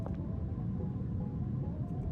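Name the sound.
car-like rumble overhead in a video game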